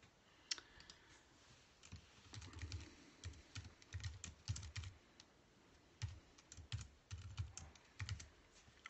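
Computer keyboard typing while book listing information is entered, with irregular bursts of close, crisp key clicks and short pauses between runs, no talking.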